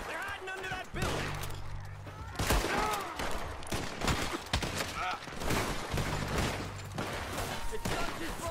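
Gunfire rattles through a Red Dead Redemption 2 gunfight against O'Driscoll gang members around a building, with dense bursts and sharp reports layered under a steady game soundtrack throughout.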